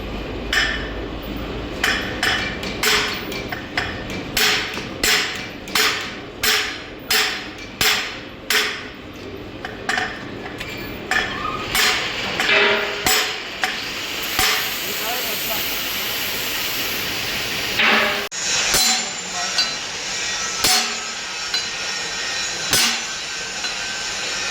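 Steady, ringing hammer blows drive a part into a marble stone piece. The strikes come in a fast regular rhythm, then grow sparser and more irregular, with a hissing noise rising partway through.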